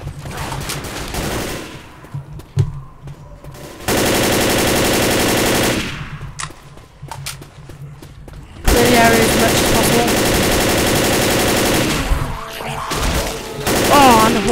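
Automatic weapon fire in the zombie shooter Left 4 Dead: loud, dense, sustained bursts lasting several seconds each, separated by quieter stretches of game ambience with scattered single shots.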